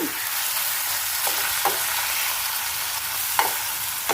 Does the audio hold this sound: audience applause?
no